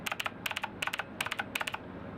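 Keycaps on a Razer BlackWidow Chroma keyboard clicking crisply in quick close clusters of three or four sharp snaps, separated by short pauses, no talking.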